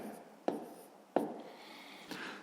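A pen writes numbers on paper while working a fifth-grade long-division exercise: a few close, scratchy strokes, each opening with a sharp tap, spaced through a quiet room.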